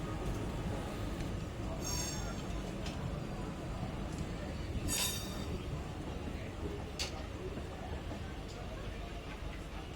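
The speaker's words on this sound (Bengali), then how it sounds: "ওই যে একটা ট্রেন, লোকাল ট্রেন দেখতে পাচ্ছেন, ওটি যাচ্ছে মেন লাইনের দিকে" A local train on the Howrah line near Santragachi rolls past toward the main line, a steady loud rumble of wheels on rails with brief metallic squeals and clinks.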